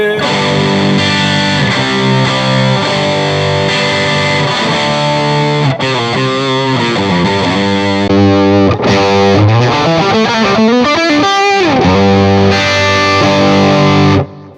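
An electric guitar plays through a TONEX Plug cabinet model, loud and heavily distorted, with sustained chords giving way to quicker single-note runs and bends, ending in a held chord that cuts off abruptly.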